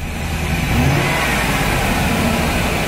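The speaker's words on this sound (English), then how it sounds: "so it's not missing, but we've got a really rough idle" A van engine idling roughly after starting, a steady loud mid-low rumble that swells slightly in the first second and then holds an uneven, vibrating drone with no talk.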